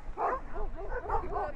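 Several dogs bark and yip on a beach in a quick run of sharp, close, fairly loud barks with a whiny edge. There is no talking.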